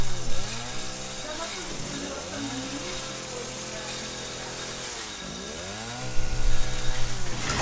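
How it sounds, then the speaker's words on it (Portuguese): A chainsaw from the video game Resident Evil 7 revs loudly and close, its engine pitch sweeping up and down in repeated surges before settling into a sustained whine, ending in a rougher burst. "a gente vai perder essa motosserra aqui"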